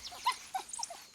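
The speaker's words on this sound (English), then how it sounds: "They're a pack of 4 African hunting dogs, and today they'll take their first steps towards freedom." African hunting dogs in a pack of four give several soft, high whimpers and yips in quick succession, faint and close, over a quiet background.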